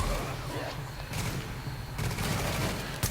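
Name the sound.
shotgun gunfire in video game Tom Clancy's The Division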